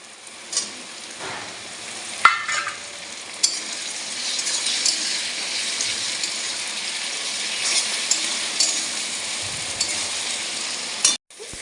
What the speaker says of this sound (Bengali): এই যে পেঁয়াজটা ভাজা ভাজা হয়ে গেছে, এবার টমেটোটা দেব।